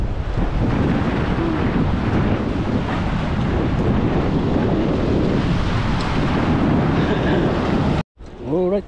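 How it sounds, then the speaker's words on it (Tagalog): Strong wind roars across the microphone over choppy waves on open water during a trout fishing outing, a steady loud rush that cuts out briefly near the end, followed by a short voice. "Mahangin lang mga biyahero."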